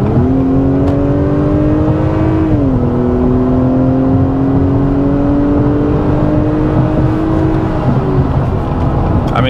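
A 2021 Acura TLX A-Spec four-cylinder engine in sport mode revs steadily and loudly, its pitch climbing, dipping briefly, then rising again as it pulls through the gears.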